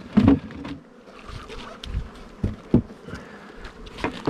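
Honeybees in a beehive super give a low, uneven buzz that rises and falls, with a few louder close passes by individual bees and no voices.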